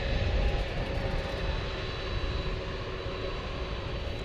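A Boeing 767 jet at DFW International Airport rumbles steadily with broad engine roar, close and fairly loud, holding an even level throughout with no talking.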